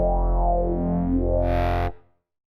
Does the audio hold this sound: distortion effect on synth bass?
yes